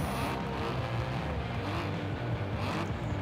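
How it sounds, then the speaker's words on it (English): A rally car engine in Forza Horizon 4 drones steadily at sustained revs, with a low rumble and brief rises in pitch as the A-class car is driven. "This engine sounds really nice, by the way."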